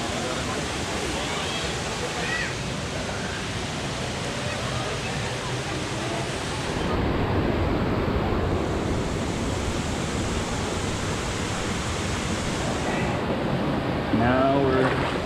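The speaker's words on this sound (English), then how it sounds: "Now we're wading through the water," Barefoot feet wade through a jungle river near a waterfall, water sloshing and splashing over a steady rushing roar of falling water, with a voice speaking briefly.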